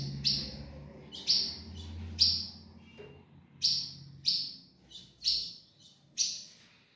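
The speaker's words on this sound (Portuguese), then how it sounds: "E aí fica doidinho ali, ó, cuchiando, querendo tratar a família." Blue grosbeak (azulão) fledglings give about eight sharp, high chirps at irregular intervals, close and clear over a quiet background.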